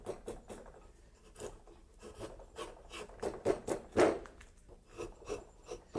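A drawknife shaves wood in repeated rasping strokes with an irregular, close and fairly quiet rhythm, a few strokes landing harder than the rest.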